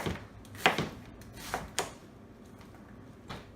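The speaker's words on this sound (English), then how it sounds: "I just have this white onion, and I'm going to chop this up" A white onion is chopped on a board in a home kitchen: a few sharp, separate knife strikes at an uneven rhythm, moderately close but fairly quiet.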